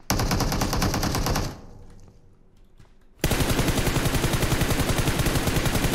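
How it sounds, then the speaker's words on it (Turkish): Automatic gunfire in the mobile shooter PUBG Mobile: loud, rapid bursts of shots, a brief quieter lull in the middle, then another sustained burst firing close by. "Abi bir şekilde vurdum adama"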